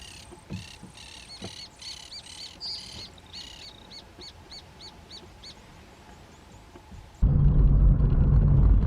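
Parakeets and doves call across a misty rural winter field, repeated bright chirps in quick series over a quiet background, then a loud low rumble takes over at the end.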